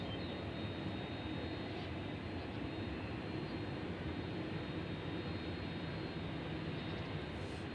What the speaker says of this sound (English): Got Southwest coming in from Houston, 737 MAX 8. They're next to arrive on 20 right.